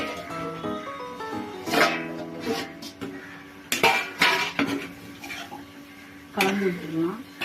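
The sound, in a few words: stirring rava upma in a pan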